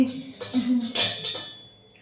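A metal spoon taps and clinks against a bowl or pan while dropping batter for fritters, giving a few close, bright knocks with a faint voice in the background.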